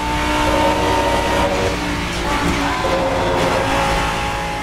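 A race car engine roars loud and steady in the Assetto Corsa GT-M video game, with a buzzing tone from a generator building pressure for the paddle shift running underneath.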